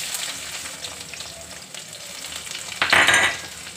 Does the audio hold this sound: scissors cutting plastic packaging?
no